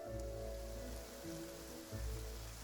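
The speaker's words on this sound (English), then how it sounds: "It's raining." Rain patters steadily in Genshin Impact, a soft, even wash of drops on surfaces layered under a low game music drone, with no voices.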